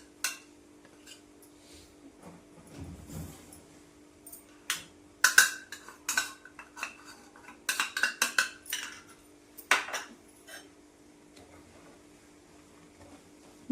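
Metal spoon clinks and scrapes in bursts against a pan as ground masala is stirred into boneless chicken pickle, with irregular close taps over a steady low hum and no talking.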